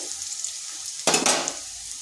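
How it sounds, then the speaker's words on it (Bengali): Potatoes frying in hot oil in a pan, a soft steady sizzle that swells into a sudden louder burst of crackling and stirring before settling back down. "এদিকে আলুটাও ভাজা হয়ে গেছে এরকম একটু লাল লাল করে ভেজে নিতে হবে"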